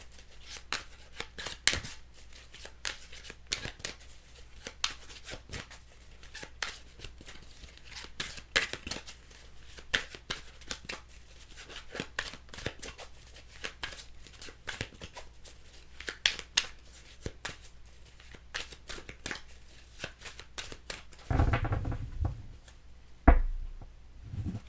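A tarot deck shuffled by hand, with soft riffling and rapid papery card flicks repeating in bursts, close and quiet, ending with a card being pulled and laid down.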